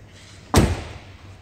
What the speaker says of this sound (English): Doors close very nicely.